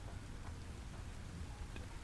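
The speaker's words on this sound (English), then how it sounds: "Is it raining? Holy shit! It's raining!" Rain falling in the video game Satisfactory (Update 6), a faint, steady hiss and patter with no voices.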